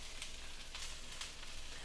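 Bok choy and carrots sizzling in a wok during a stir fry with shrimp, a soft, steady frying hiss with faint crackles, fairly quiet and with no voices.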